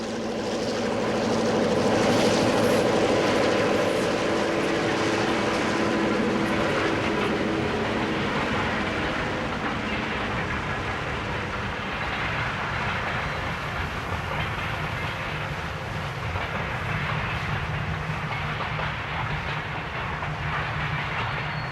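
A long Southern Pacific train heading to Oakland rumbles past in the early 1960s, a sustained heavy roar with rattling clatter that slowly fades, no voices.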